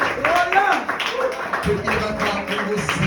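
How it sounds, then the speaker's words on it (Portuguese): A church congregation claps in a steady rhythm at a worship service, the sharp claps falling at even intervals beneath a voice that carries on over them. "Aplauda Jesus com fé"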